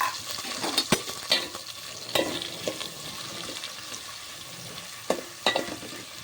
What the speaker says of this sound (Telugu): ఒకసారి కలిపేసుకుంటాము లైట్గా బ్రౌన్ కలర్ వచ్చేదాకా ఉల్లిపాయలు తీసుకోవాలి